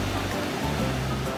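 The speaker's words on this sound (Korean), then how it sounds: "정자 아래로는 시원한 폭포수가 흘러내리고" Cool waterfall water pours below Yongamjeong, a pavilion set among large rocks in a mountain valley. It makes a steady, even rush of falling water with no other sounds.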